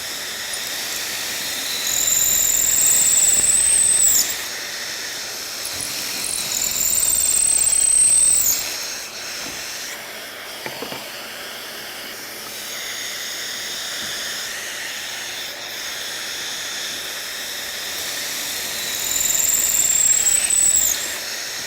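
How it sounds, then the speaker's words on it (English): A power drill fitted with a pocket-hole jig bores into picture frame wood in three separate bursts, each a whining, high-pitched spin-up lasting a couple of seconds, with quieter handling and clunks in between. "we're only drilling in one end of each piece"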